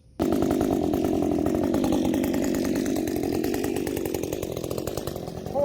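A ported Redmax GZ 5000 chainsaw with a muffler mod runs close by at high, steady revs, its loud buzzing drone holding for several seconds before easing slightly toward the end.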